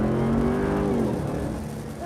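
A 2021 Ram 1500 TRX pickup truck accelerating after a U-turn, its engine a loud, close, rising roar that holds steady and then eases slightly over two seconds.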